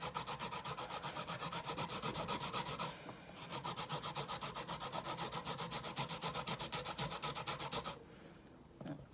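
Vegetables for veggie tater tots are grated by hand on a grater in fast, rhythmic rasping strokes, evenly paced and close. There are two short pauses between runs, and no voices.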